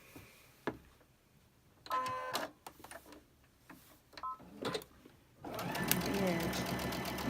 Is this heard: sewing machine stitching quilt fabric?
yes